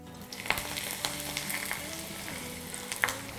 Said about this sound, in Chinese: 干辣椒节加这个干花椒，我们给它炝一下